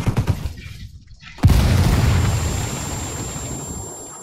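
A frag grenade detonates in the tactical shooter Ghost Recon Wildlands, a sudden loud boom about a second and a half in that rolls out into a long, slowly fading rumble, after scattered quieter game noise.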